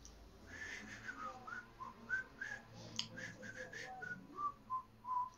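Breathy, faint whistling from a pianist while playing, a series of short wavering whistled notes with a few sharp clicks between them, quiet and close.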